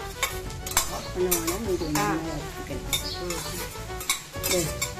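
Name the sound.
roasting chillies and spices in a pan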